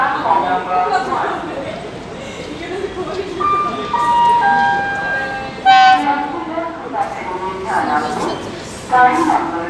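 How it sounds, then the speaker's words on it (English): The Ahmedabad to Jamnagar Express pulls into platform 1 at a busy Indian railway station, its loud horn sounding in tones over the rumble of arrival, with a public address announcement and nearby chatter mixed in. "train number 2925 from Ahmedabad to Jamnagar Express is just arriving on platform number 1"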